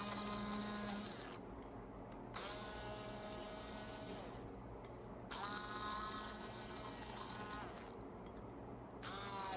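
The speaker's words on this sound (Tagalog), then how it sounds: "i-blend lang natin maigi para matanggal yung, makuha natin yung juice" A blender whirs through bitter gourd (ampalaya) to make juice, a low steady motor drone with rising and falling pitch changes roughly every couple of seconds, quiet and without speech.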